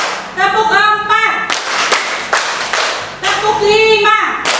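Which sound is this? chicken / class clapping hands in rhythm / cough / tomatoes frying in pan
class clapping hands in rhythm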